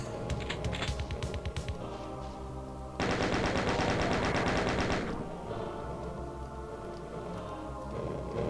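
A chain gun fires in a Doom-style first-person shooter, rapid mechanical bursts rattling loud and close, with a dense two-second stream of shots in the middle amid other game effects.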